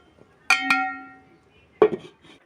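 A lid goes onto a cooking pot with two quick metallic clinks that ring briefly, followed a moment later by a duller clatter as it settles, with no one speaking.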